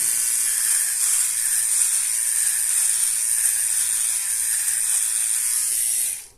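A Philips OneBlade electric shaver runs continuously close up with a steady high buzzing whir and a faint ratcheting texture as it cuts stubble, cutting off abruptly at the end.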